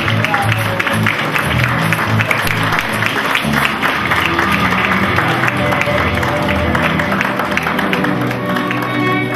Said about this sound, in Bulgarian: Аплодисменти за Десислава Бачварова и нейното произведение.